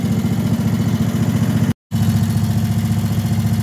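A lawn mower engine idles steadily and loudly close by at a narrow back gate, a throbbing mid-pitched drone cut by a brief dropout before it carries on unchanged.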